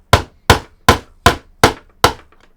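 A hammer strikes a cheap Wish.com solid-state drive six times in an even, steady rhythm, each blow a sharp, loud, close crack that decays quickly, with no talking.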